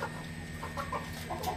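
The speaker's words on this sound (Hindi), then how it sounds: "और यहाँ पे भी मुर्गे हैं" Chickens clucking at a poultry market in China, several short close clucks and cackles in a brief uneven burst over a low background hum.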